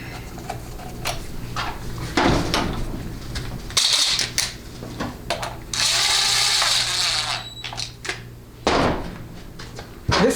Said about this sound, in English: I just take my ratchet and I cinch it up